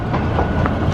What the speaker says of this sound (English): The train, Pleasure Beach Express that we're sat on.